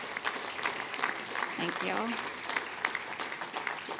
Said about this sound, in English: give them a hand of applause.